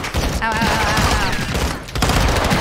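Call of Duty: Modern Warfare II gunfight with rapid, loud volleys of shots, a short voice-like cry partway through, and a fresh burst of firing near the end.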